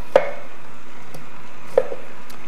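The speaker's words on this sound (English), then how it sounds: "I'm going to switch over to my chef's knife to give this a nice chop" Chef's knife chopping through fruit or vegetables for a grapefruit green juice, two sharp distinct knife strikes on a cutting board about a second and a half apart, close and clear against a quiet room.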